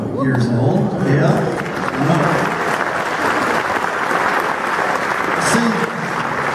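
Steady applause from an audience at a live sonata and hymn performance, dense and continuous throughout with a faint voice or two breaking through the clapping.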